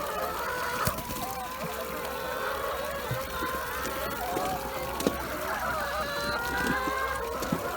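Several chickens cluck and murmur together in a continuous flock chatter, with occasional sharper calls and a light background hiss.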